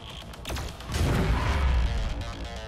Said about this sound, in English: It's a big explosion, my guy.